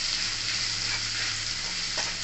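Ginger, green chili and rice fry in a pan with a little water added, giving a loud, steady hiss of sizzling that runs unbroken throughout.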